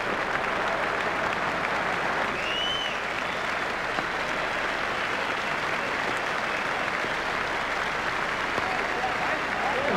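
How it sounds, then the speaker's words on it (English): A cricket crowd at Leeds applauds a batsman's half century during an England versus Australia match, with sustained, dense clapping from a large stadium audience, steady and moderately loud throughout. "Crowd are giving him an excellent round of applause"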